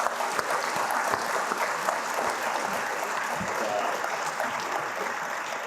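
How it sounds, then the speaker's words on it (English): An audience at a city's State of the City event applauds the mayor and deputy mayor with dense, sustained clapping that holds steady and strong throughout, with no voices over it. "one more round of applause for Mayor Haley and Deputy Mayor Higgins"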